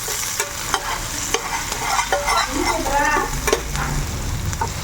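Onions sauté in a pan for a semiya and egg dish, a bright sizzle broken by repeated scraping stirs of a spoon, close and lively.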